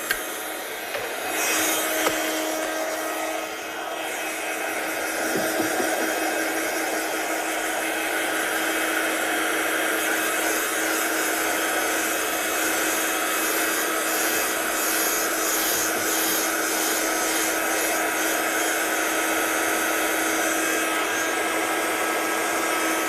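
Heat gun drying heat embossing on a card: a continuous whooshing blower drone that starts after a moment and runs steadily, close and moderately loud.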